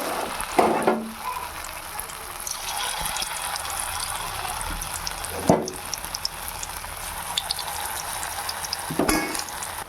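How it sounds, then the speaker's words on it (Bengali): Poppy seed fritters fry in hot oil in a Bengali home kitchen. There is a steady close sizzle with occasional louder bursts and clatters as the fritters go in or get turned, and no talk. "এবার আমি পোস্তর বড়াগুলো ভেজে নেব। তেল গরম হয়ে গেছে, দিয়ে দেবো।"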